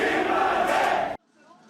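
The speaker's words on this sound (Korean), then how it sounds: "김은혜 후보 캠프에선 환호성이 나왔고" Crowd cheering erupts at an election campaign camp as exit poll results arrive, a loud burst of many voices that cuts off abruptly, leaving near silence.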